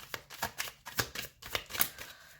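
Tarot cards being shuffled by hand close by, a series of soft riffling bursts in a steady rhythm, about eight to ten quick flutters.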